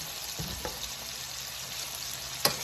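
Vegetables sauté in oil in a hot pan, a steady close sizzle with a couple of soft stirring knocks and a sharp clatter near the end.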